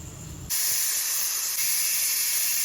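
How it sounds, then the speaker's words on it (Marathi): Pressure cooker on a gas stove suddenly bursting into a loud, sustained hissing whistle of escaping steam after a brief duller rush, the high shrill jet holding steady to the end. "आता झाकण लावूया कुकरचं आणि दोन शिट्टे घ्यायचे"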